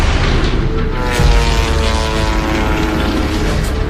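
A loud, steady droning engine of the Kettering Bug, an unpiloted World War I airplane, fills the scene with a continuous propeller roar and a brief low thump near the start.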